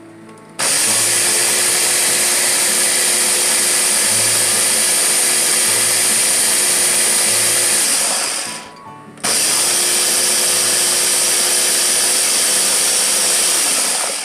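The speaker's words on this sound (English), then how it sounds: "Blending my hummus." A blender whirs steadily on high while blending roasted red bell pepper hummus, loud and continuous, stopping briefly for a second before spinning back up to the same whine.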